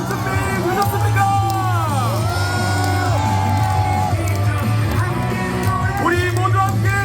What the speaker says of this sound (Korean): 이재명 후보님은 홍대 뜨거운 함성과 박수로 맞이할 준비 되셨습니까?